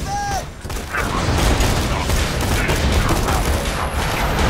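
Rapid bursts of assault rifle fire in the shooter game Borderlands 2 rattle continuously at close range, dense and loud with mechanical clatter throughout.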